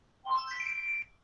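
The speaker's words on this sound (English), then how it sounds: "that was my alarm for the real 8 a.m." A phone alarm goes off in a short burst, a bright electronic ringtone with steady sustained tones, lasting under a second, fairly close and loud, with no talking over it.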